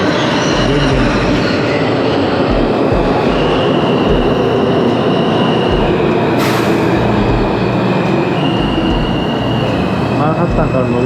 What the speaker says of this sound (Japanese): まもなくジャマイカセンター駅の列車が到着します。